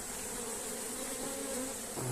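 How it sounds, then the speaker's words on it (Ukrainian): Honeybees at an opened hive buzz steadily and up close toward evening, a dense, agitated drone that holds for the whole stretch with no talking. "Вже під вечір трошки бджоли нервуються."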